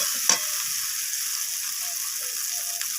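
Spice paste being stir-fried in oil for a fish curry: a steady, bright hiss of frying with one sharp scrape or tap near the start, close and even throughout.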